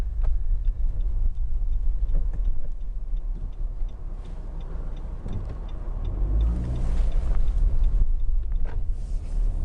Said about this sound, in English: You can hear the engine a little bit, but then that's normal for a car this size.